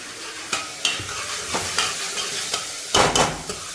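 Grated onion frying in a pan while being stirred, a continuous loud sizzle punctuated by repeated scraping strokes of a spoon, with a heavier clatter near the end, close and with no voices.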